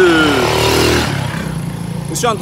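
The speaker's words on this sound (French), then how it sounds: "Bon, alors là il y a beaucoup de motos." A motorcycle engine revs and drops away nearby, with the steady hum of street traffic beneath; another engine buzzes briefly near the end.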